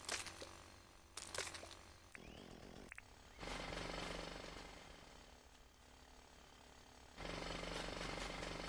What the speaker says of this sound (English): We're going to have to jackhammer those.